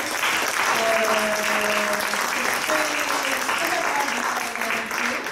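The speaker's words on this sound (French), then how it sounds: "on peut vraiment les applaudir" Steady applause from an audience in a classroom-style gathering, sustained and fairly close, with a few voices talking faintly underneath throughout.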